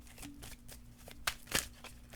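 Tarot cards shuffled by hand in a few quick, soft riffling bursts, faint and close, with brief pauses between them.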